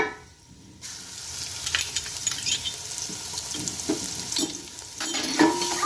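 Garlic ginger paste sizzles and crackles in a hot pan while a wooden spoon stirs and scrapes intermittently; the frying hiss swells louder near the end.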